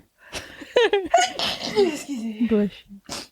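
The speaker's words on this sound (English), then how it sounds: "hold on, I'm about to sneeze." A close, sharp sneeze bursts out amid strained, voiced breathy sounds just before and after it.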